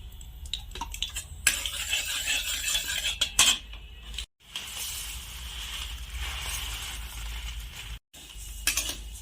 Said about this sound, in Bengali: ঘিয়ের মধ্যে ভালো করে নেড়ে চেড়ে সিমই ভেজে নেব।